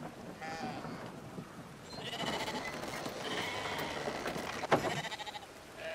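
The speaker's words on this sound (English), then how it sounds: "Stick the sheep in there." Sheep bleating in the video game Brothers, several short faint bleats over a soft rumbling ambient backdrop with a distinct call near the end.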